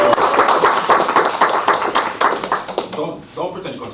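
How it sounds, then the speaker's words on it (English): Comedy show audience clapping in a burst of applause that thins out and fades toward the end, with voices heard over it. "Give him a round of applause."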